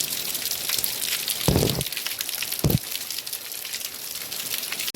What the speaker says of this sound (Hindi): दोस्तों सुबह से बारिश लगी है